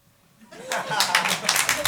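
Audience applause erupts at a live podcast taping in French, starting after a quiet half-second and swelling into a dense patter of clapping mixed with some laughter and voices.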